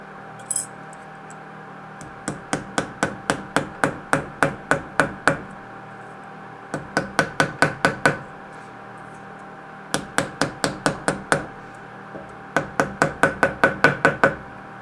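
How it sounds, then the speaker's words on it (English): A rawhide mallet strikes a handmade metal ankh pendant in quick bursts of about eight to ten sharp taps each, four rapid runs separated by brief pauses, close and clear with no talking. "So I'm using this rawhide mallet so I don't leave any marks on here as I'm doing this."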